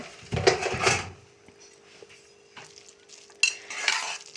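Cooked beetroot halwa is mixed in a pressure-cooked pot with a ladle, in two separate bursts of thick, scraping stirring with quiet pauses between, close by.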